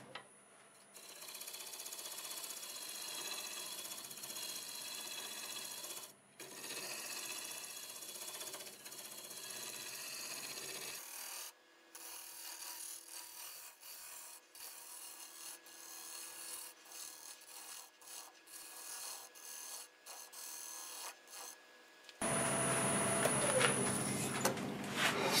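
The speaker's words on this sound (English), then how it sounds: "I'll use the negative rake scraper there." Negative rake scraper cutting a black walnut vase spinning on a wood lathe, a steady rasping scrape with brief pauses and a shift in tone partway, then a brighter, louder hiss near the end, with no talking.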